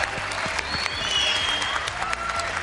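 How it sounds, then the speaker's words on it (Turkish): Enthusiastic audience applause at a televised talent show, a dense continuous clapping from a large crowd filling the room, loud and close, with a few faint voices beneath. "Alkışlar Faruk Kademi'ye gelsin"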